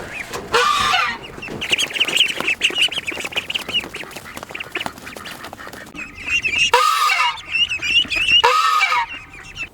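An angry, protective goose honks loudly and repeatedly at close range in harsh, nasal bursts, with short pauses between calls outdoors on a homestead.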